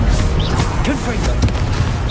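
Confringo fire spell casts in Hogwarts Legacy, a loud, busy run of crashing bursts and sharp impacts amid dense battle noise, with voices calling out through the chaos.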